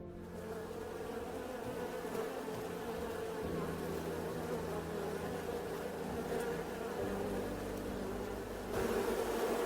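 Giant Himalayan honeybees swarm around honeycombs hanging on a sheer cliff wall, a dense, steady buzz of many insects filling the whole stretch with no pauses, close and continuous, slightly louder near the end.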